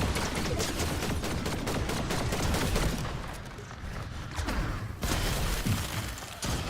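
Rapid automatic fire from a mythic gun in Fortnite rattles in dense, loud bursts, mixed with impact cracks and shattering hits, with a short pause before the shooting resumes.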